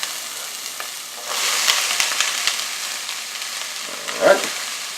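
Vegetables hit a hot skillet for spicy tortilla soup, giving a steady close sizzle and crackle that swells after the first second and carries on to the end, with a brief brighter burst near the close.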